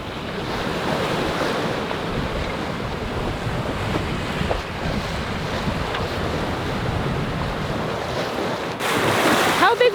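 Pacific Ocean swells rolling past a sailboat mid-crossing, a constant rushing surge with wind buffeting the microphone, growing louder and harsher in the last second.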